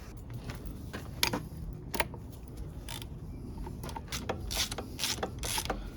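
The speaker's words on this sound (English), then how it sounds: "I'm using this socket right here, taking them out by hand with the 1/2-inch breaker bar." A socket on a half-inch breaker bar loosens 12mm bolts during the teardown of a Datsun 280Z L28 engine with no oil pressure, giving repeated ratcheting clicks and sharp metallic snaps at close range with no talk.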